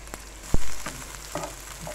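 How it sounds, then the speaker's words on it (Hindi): Chopped onion frying gently in about two tablespoons of oil in a pan for aloo chana chaat, a soft steady sizzle with a loud thump of the pan early on and a few faint clinks. "तो इसके लिए हम हल्की हल्की सी प्याज जो है ये फ्राई करेंगे"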